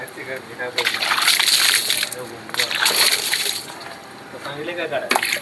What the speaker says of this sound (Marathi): आता हे पाण्यानं धुतलं पाहिजे